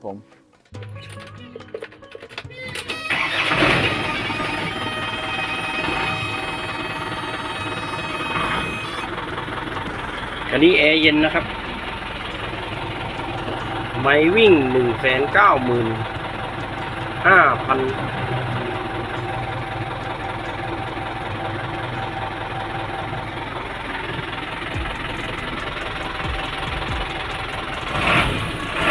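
A used truck's diesel engine idles steadily throughout with a low, even rumble, while someone talks over it close by.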